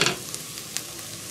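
Ingredients for smothered steaks sizzle in a frying pan while being stirred, a soft steady crackle with a few light scraping clicks over just over a second.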